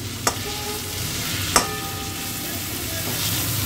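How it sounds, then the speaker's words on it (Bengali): Potatoes and onions fry for breakfast in a pan, making a steady, close sizzle broken by two sharp clinks from stirring. "ভাজা চলছে এখানে ব্রেকফাস্টের জন্য।"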